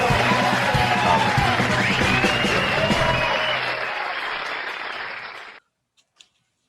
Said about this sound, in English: give yourself a real round of applause